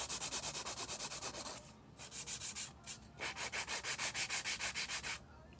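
A 180-grit nail file rubs back and forth over an artificial nail in rapid, even strokes, close and clear, with two short pauses in the rhythm and no talking.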